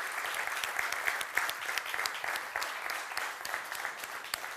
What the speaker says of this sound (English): So I think if we can just give them, everyone, a round of applause for all their efforts.